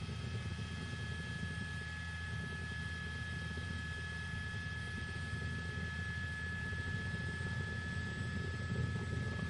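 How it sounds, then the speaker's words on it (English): A police helicopter flies overhead during a car chase after a speeding Chrysler 300, its rotor and engine giving a steady, constant drone with no voices over it. "They have the helicopter overhead."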